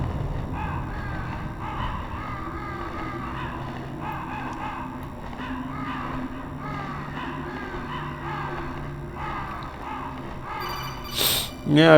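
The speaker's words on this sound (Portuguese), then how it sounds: "Agora tem um monte de corvo." Crows caw repeatedly in the PlayStation game Metal Gear Solid. The harsh calls come in a steady series over a continuous game backdrop, with a voice also heard.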